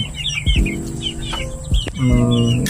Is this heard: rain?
no